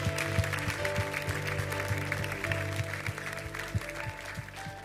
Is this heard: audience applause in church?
yes